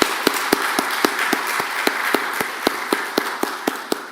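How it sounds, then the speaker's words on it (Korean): A church congregation claps in a steady, even rhythm, sharp distinct hand claps repeating roughly every quarter second for several seconds. "하나님께 영광의 박수를 올려드리겠습니다"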